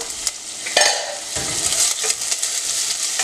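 Onions and curry leaves sauté with salt in a pan over medium flame, a steady close sizzle broken by scraping stirs and a clink of the spatula against the pan, with no talking.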